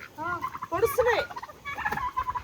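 Large farm turkeys gobbling nearby, several quick warbling bursts in a row, fairly close and clear with no talk over them.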